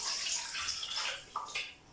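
Vegetable stock pours into a cooking pot for tagine-style soup, a close, steady splashing stream that tails off into a couple of final glugs.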